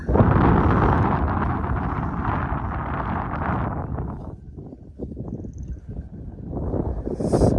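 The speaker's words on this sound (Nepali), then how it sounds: "उकालोमा यस्तो हावा चलिरहेछ" Strong wind gusts across a hilltop, roaring loudly into the microphone at first, then easing and buffeting in uneven bursts before rising again near the end.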